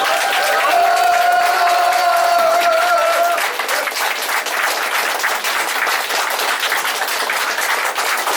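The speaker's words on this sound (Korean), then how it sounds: "여러분 큰 박수 부탁을 드리겠습니다." A crowd at a re-election victory celebration claps steadily and loudly, with a faint sustained tone early on and scattered cheers mixed into the dense applause.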